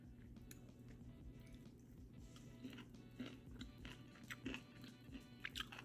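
Someone eats soup and broccoli close to the mic: soft chewing and bites with a few wet slurps and small crunches, faint and uneven, under a low steady hum, with no talking.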